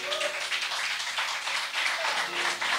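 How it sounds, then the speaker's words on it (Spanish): A church congregation claps hands for the Lord in a rapid, dense burst of applause that is moderately loud and sustained, with many hands clapping together. "dele fuerte palmas al Señor"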